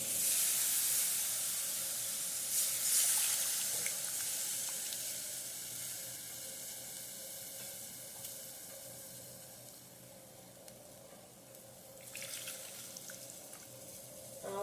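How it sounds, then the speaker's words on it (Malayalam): Tamarind water hits a hot pan with a loud hissing sizzle that starts strong, then settles into a long, steady bubbling hiss that slowly fades, with a fresh surge near the end. "പുളിവെള്ളം ഒഴിച്ചു കൊടുക്കാം"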